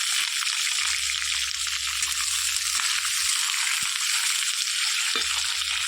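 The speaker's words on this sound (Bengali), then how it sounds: "তেলটা গরম হয়ে গেছে, এবার ফুলকপিগুলো ভেজে নেব।" Cauliflower florets frying in hot oil for a Bengali rohu fish curry with potato, a steady broadband sizzle that holds throughout, close and loud, with faint stirring knocks and no talk.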